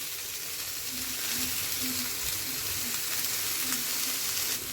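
Peas and sliced onion with colored peppers sautéing in a pan, giving a steady broadband sizzle and hiss throughout with no talking.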